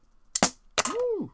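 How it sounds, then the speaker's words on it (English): A toy Batman cap gun fires two sharp cracks close by, followed by a short excited vocal whoop. "Got another pistola. This is a Batman gun. This thing work?"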